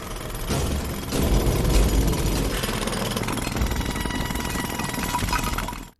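A jackhammer drilling into a road pounds steadily and loudly for several seconds, a dense continuous hammering rattle that cuts off abruptly at the end.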